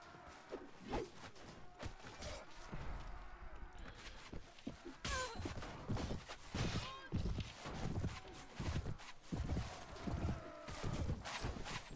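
Hooves pound in an irregular galloping rhythm as cavalry charges across a battlefield in the Viking Conquest video game, moderately close and mixed with clatter, while someone talks over it.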